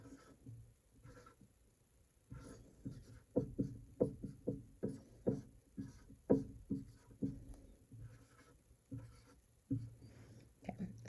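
Pen writing by hand on paper, a quiet close run of short scratchy strokes in irregular bursts after a near-silent start, with no voices.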